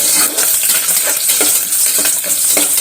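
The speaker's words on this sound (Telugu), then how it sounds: "వెల్లుల్లిపాయ కొంచెం వేగనిద్దామండి" Garlic fries in hot oil with mustard seeds, cumin and curry leaves for a Rayalaseema-style fenugreek dal, a loud continuous sizzle broken by scraping stirs and light clinks of a spoon against the pan.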